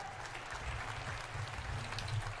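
An audience applauds during a Spanish-language broadcast of the E3 2018 PC Gaming Show conference, a steady, dense clatter of many hands clapping throughout, fairly distant in a large hall.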